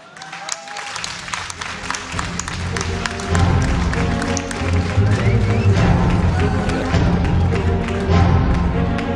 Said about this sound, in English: Let's get a round of applause for the winner bracket finals